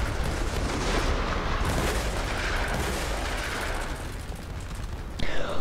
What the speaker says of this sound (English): Okay, my artillery right there. Turn. And shoot them.